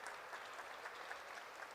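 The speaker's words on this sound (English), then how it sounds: "How about another round of applause for our young performers" Quiet, distant applause from an audience at an Asian Pacific American Heritage Month celebration, honouring young school musicians, a brief even patter of many hands.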